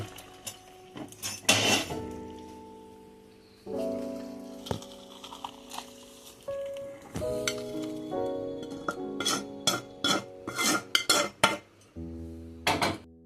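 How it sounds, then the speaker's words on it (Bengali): Fish curry with ginger is poured from a wok into a bowl on a gas stove, with scattered metallic clinks and scrapes of a pot and utensils, some sharp and close, and no talk. "এই ঝোলটাকে আমি ঢেলে নেব বাটিতে"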